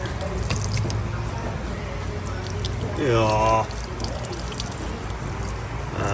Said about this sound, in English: I see water leaking out of their car.